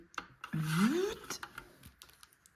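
A single sliding cut from a paper trimmer, a short rasping sweep followed by a few light clicks and handling taps, close and quiet.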